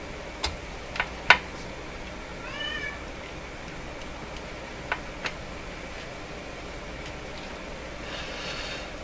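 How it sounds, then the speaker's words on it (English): A cat gives a few short, soft meows in a quiet room, with scattered faint clicks and taps around them and a low steady hum beneath. "here comes my cat again"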